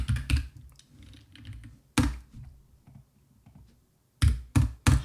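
Keys clatter on a computer keyboard while Java code for a command-line tic tac toe game is entered, in loud bursts of several quick taps separated by quiet pauses.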